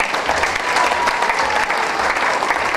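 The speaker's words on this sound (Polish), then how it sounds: "czyli wielkie brawa." Steady, dense applause from an audience greeting ballroom dance couples at a dance show in Zalasowa, continuous and fairly loud throughout.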